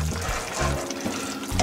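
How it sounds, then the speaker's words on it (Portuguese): A spoon stirs bacalhau rice with turnip greens in a pot, making a few quick wet scraping strokes over a low bubbling simmer, close and brief with no speech. "Vamos mexer"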